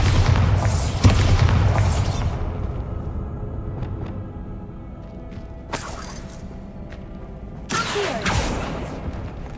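A Bombarda explosion spell in Hogwarts Legacy, heard as loud booming blasts with shattering debris, one burst near the start and another around the two-thirds mark, with rumbling decay between and no talking.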